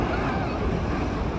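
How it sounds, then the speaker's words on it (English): Big ocean waves roar as surf at a beach in Arecibo, Puerto Rico, a continuous loud rush mixed with wind buffeting the microphone. "There's big waves happening nearby."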